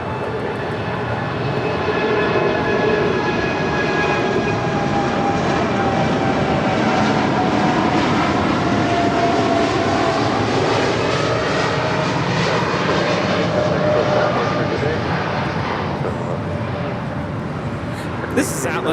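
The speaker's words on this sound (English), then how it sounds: "This is Atlas Air Flight 8711 departing to Anchorage on a 747-8 freighter" An Atlas Air Boeing 747-8 freighter departs from Los Angeles International Airport, loud sustained jet engine roar rising and swelling across the runway as it climbs out.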